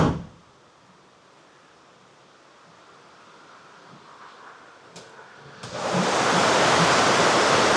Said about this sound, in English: This is a driveway which is now completely flooded.